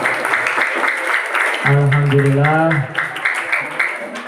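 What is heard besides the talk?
audience clapping hands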